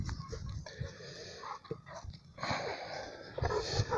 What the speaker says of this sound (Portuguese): e aqui tem muito cachorro, então acontece essas coisas